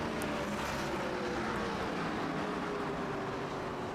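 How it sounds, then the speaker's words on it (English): Stock cars thunder across the finish line on a racing circuit, a loud, steady engine roar with no break and no one speaking. "listen to these things go across the line here. They're thunderous cars"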